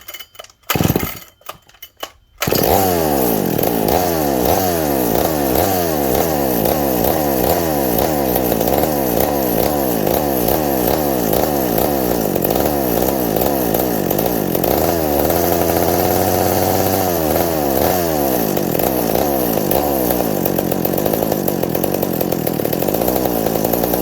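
A McCulloch 790 chainsaw is pulled over a few times, then fires and runs loud and close, its two-stroke engine warbling and shifting speed with a brief change in pitch midway.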